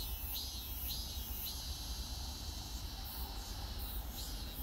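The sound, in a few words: cicadas singing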